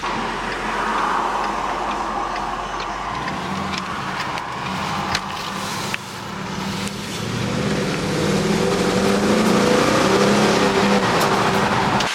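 Ford Mustang with a V8 engine driving in a racing game, a steady engine roar that shifts pitch partway through and then rises again as the car accelerates, loud and continuous with no talking.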